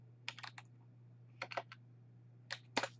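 Typing on a computer keyboard: three short bursts of quick, crisp key clicks with pauses between, close and fairly quiet over a steady low hum.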